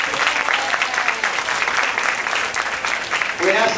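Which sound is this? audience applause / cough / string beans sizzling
audience applause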